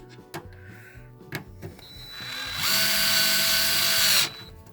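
Electric screwdriver threading a screw while installing door sills on an MK3 Supra: a steady, loud motor whine of under two seconds rises in after some light clicks and handling noises, then cuts off abruptly.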